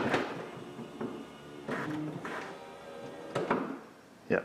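Several short mechanical thumps and clunks spaced over a few seconds, ending in a sharper latching click as a car door power-pulls itself shut.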